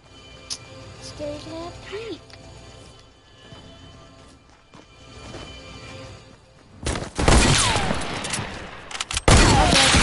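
Hunting rifle fire in a shooter video game: a burst of loud, sharp gunfire erupts in the second half, with a couple of heavy cracks near the end, following quieter game ambience.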